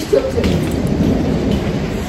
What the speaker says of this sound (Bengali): আর বাইরে প্রচন্ড বৃষ্টি হচ্ছে, তোমরা আওয়াজ শুনতে পাচ্ছ মনে হয়, পুরো মেঘ ডাকছে বাইরে